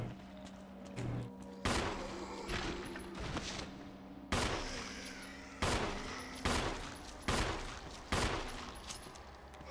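Handgun shots fired at zombies in Resident Evil HD Remaster, a steady series of sharp loud reports spaced about a second apart over a low game ambience, with no talking.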